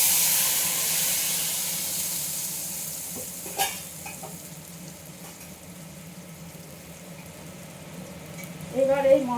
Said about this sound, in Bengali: এই মশলাটা আমি এবার কড়াইতে ঢেলে দিলাম।